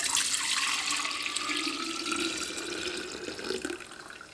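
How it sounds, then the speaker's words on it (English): Homemade apple scrap vinegar pours steadily from a container into a clean glass jar, a continuous close liquid trickle and splash lasting several seconds with no talk. "We're gonna take our vinegar and go back into our clean jar."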